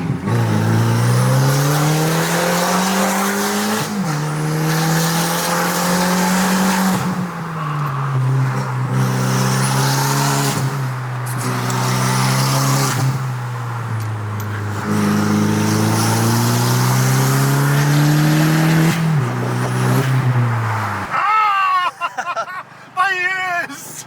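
A car with a blowing exhaust drives on at length, its rough, loud engine drone rising and falling through repeated gear shifts before cutting away near the end.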